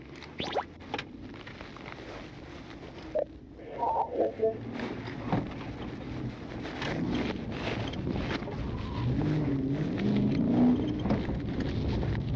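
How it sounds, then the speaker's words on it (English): A fleeing car accelerates away from a police traffic stop, heard as steady road and wind rumble that swells and grows louder over the second half, with brief thumps early on and faint voices. "the driver briefly came to a stop, then suddenly accelerated, fleeing the scene"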